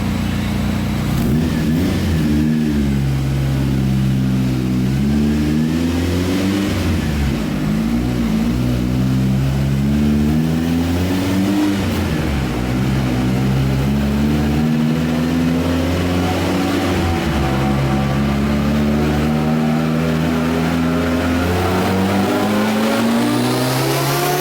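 A turbocharged Renault car engine at full throttle, a loud sustained roar climbing steadily in pitch through several gear changes, each shift marked by a brief dip before it climbs again, heard from inside or close by.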